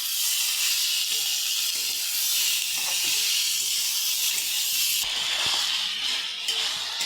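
Turmeric, chili and cumin powder sizzle and hiss in hot oil while being stirred for a fish curry, a loud, steady close-up frying sizzle with faint scraping from the stirring.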